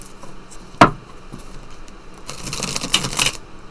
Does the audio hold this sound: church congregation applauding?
no